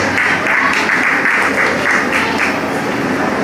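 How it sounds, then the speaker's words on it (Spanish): Loud, dense applause from guests at a family party right after a father-daughter waltz, a continuous wash of clapping with crowd murmur mixed in, filling the room without a break. "Fuerte el aplauso para Fátima"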